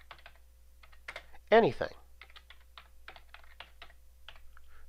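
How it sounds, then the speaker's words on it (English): Computer keyboard typing in light, irregular clusters of keystrokes, close and clear, with a single brief spoken word partway through. "Now type something."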